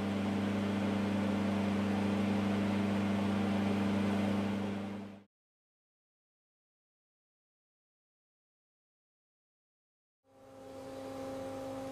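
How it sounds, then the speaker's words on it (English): A bench centrifuge spinning tubes at 3000 RPM gives off a steady motor whir with a strong, even hum, then stops abruptly into silence and later spins up again. "place these tubes into a bench centrifuge and centrifuge at 1800 G or 3000 RPM for approximately 10 minutes"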